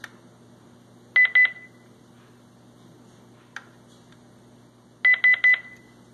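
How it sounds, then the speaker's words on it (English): A Honeywell gate sensor emits a short burst of two to three beeps while enrolling, then after a pause another burst of three beeps, clear and close with a faint click between them. "we pull the magnet away, come back, and we do this until we hear three beeps."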